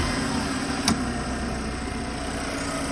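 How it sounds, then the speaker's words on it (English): A Mercedes W204 C-Class engine runs steadily after being started by bridging the relay pins, a close, continuous mid-pitched idle hum with a brief click near the start. "motor starts"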